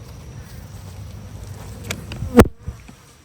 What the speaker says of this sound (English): As you can see, there are a lot of bees up here